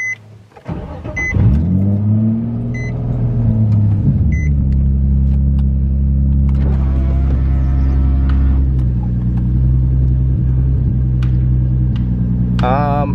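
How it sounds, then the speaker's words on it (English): Nissan 350Z engine starting and pulling away on a test drive after a misfire problem, revving and settling into a steady loud drone with rising pitch changes, close inside the car. "Alright. Let's go test drive the car."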